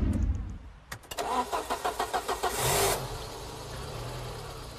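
A cheap used convertible car cranks with several rhythmic starter pulses, catches, briefly revs, then settles into a steady idle, heard close with no talking.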